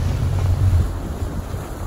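A jet ski speeds across open water, its motion heard as a loud, continuous rush of wind buffeting and churning spray up close.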